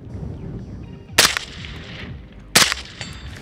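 Two sharp MP7 gunshots fired at a distance target, spaced about a second and a half apart, each a loud crisp crack with a short tail over faint background noise.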